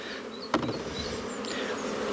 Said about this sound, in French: les abeilles qui sont restées dessus remontent dans la ruche